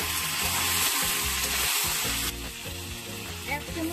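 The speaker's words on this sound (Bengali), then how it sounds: "খাসির মাংসটা ভাজা আছে, খাসির মাংস থেকে জল ছাড়বে।" Goat meat frying in oil makes a loud, bright, continuous sizzle close to the pan, overlaid by a rhythmic low thumping pattern and faint background music, with the hiss easing slightly partway through.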